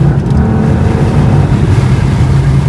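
A tuned 2017 Lincoln MKZ pulls hard under acceleration, its engine droning loud and steady from inside the cabin with a deep, continuous hum and no talking.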